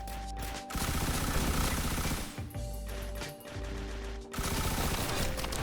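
Fireworks launching en masse in the Risk of Rain Returns video game, a dense loud crackling barrage of rapid pops and bursts with brief gaps, alongside steady game tones.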